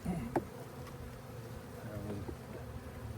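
Honeybees hum and buzz around an open hive during a spring hive split, a continuous close drone with individual bees passing near, faint voices in the background.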